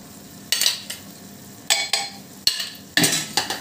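Spoon stirring chilli, turmeric, coriander and kitchen king masala powders into ridge gourd curry frying in a pan, with four or five close scraping strokes over a low steady sizzle.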